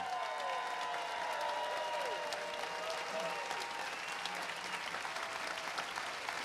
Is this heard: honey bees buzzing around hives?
no